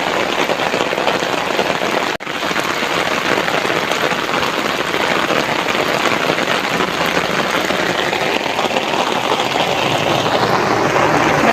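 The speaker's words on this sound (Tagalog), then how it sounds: "bumubuhos na talaga dito sa Metro Baguio yung napakalakas na ulan" Very heavy rain pours down steadily in Metro Baguio. It is a loud, dense, continuous hiss of rain on surfaces, up close, with no talking.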